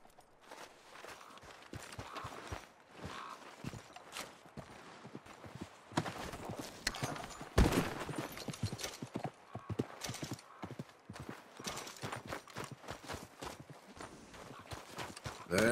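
Horse hooves clip-clop at a steady trot to gallop in Red Dead Redemption 2, a continuous rhythmic run of close, distinct beats that carries through the whole stretch, with a brief louder crash near the middle.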